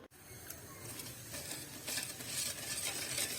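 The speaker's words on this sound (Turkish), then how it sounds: "Şöyle şekerini karıştırıyorum biraz." Sugar stirred into just-boiled hot milk in a pot, a steady soft swishing and scraping of a spoon close by, continuous and fairly quiet with faint hiss throughout.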